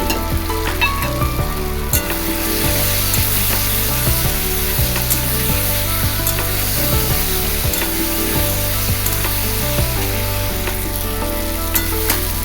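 Cumin powder with a paste of ground poppy seeds and ginger sizzles and fries steadily in a pan for a Bengali fish curry, with occasional stirring scrapes and clinks throughout and no talking.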